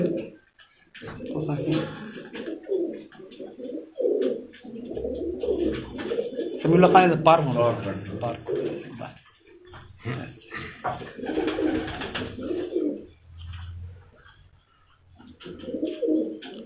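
Low, repeated cooing from a Teddy breed pigeon held in the hand, number 16 from someone's loft, comes in bursts between stretches of someone talking nearby.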